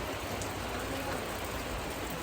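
Steady rain falls outside in a continuous, even hiss of drops on surfaces, with no distinct individual impacts and no voices.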